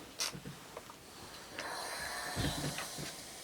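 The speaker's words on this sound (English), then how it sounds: "I'm going to press this seam to my right." A clothes iron pressing a French seam gives short, quiet bursts of steam hiss, with a soft thump of the iron landing before a longer hiss that fades out.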